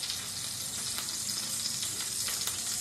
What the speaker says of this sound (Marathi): तेलामध्ये जिरं टाकलं आणि कढीपत्ता टाकून घेतला